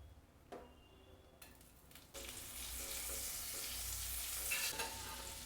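A soft clatter, then a sudden loud sizzle as butter hits hot oil in a frying pan, frying steadily and close.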